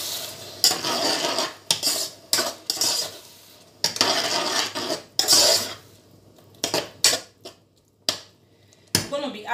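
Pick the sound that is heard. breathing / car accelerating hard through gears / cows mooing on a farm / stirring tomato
stirring tomato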